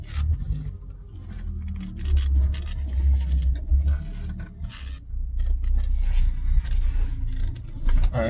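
A BMW E30 M3 engine while driving, a steady low drone of the motor with road noise and rattles from inside the cabin, continuous and fairly loud.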